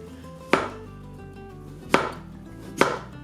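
Three sharp knife chops on a cutting board as peeled potatoes are cut into round thin slices, spaced irregularly about a second apart, close and clear with a quiet background between strikes.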